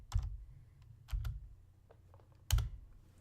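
Three separate bursts of key clicks on a computer keyboard, close and clear, as a number is entered into counting software, with quiet pauses in between.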